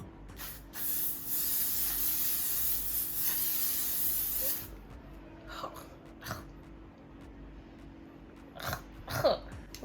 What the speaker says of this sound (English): You bought a sunscreen spray to apply it on your face.